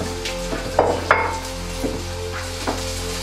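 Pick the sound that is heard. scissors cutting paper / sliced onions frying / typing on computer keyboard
sliced onions frying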